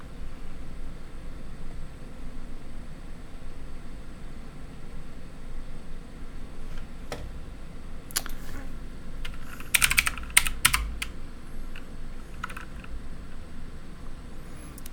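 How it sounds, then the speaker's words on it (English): Keys clack on a mechanical computer keyboard in short scattered bursts over a steady background hiss, faint at first and then a quick, louder flurry of keystrokes near the middle. "It's a mechanic keyboard, but that thing is the bomb."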